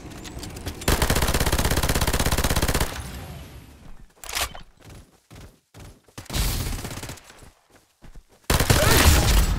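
Rapid automatic gunfire in the Farlight 84 battle royale video game, long loud bursts broken by short gaps and scattered single shots, with no talking.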